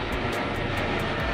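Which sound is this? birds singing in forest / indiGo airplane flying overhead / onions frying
indiGo airplane flying overhead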